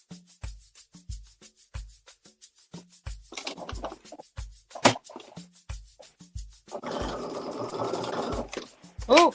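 A sewing machine stitches the shoulder seams of a sweatshirt with a zigzag stitch, giving a rapid regular mechanical clatter in short bursts and longer runs, with a person talking in between.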